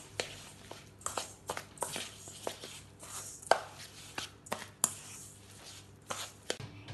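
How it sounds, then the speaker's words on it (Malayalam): A spoon mixes semolina and curd for rava dhokla, making a quiet string of irregular clicks and knocks against the bowl with soft scraping between them, close and without speech. "ഇതിലേക്ക് ഒരു കപ്പ് റവ ചേർത്ത് ഇതെല്ലാം കൂടി ഒരു സ്പൂൺ കൊണ്ട് നല്ലോണം ഇളക്കി മിക്സ് ചെയ്യാം."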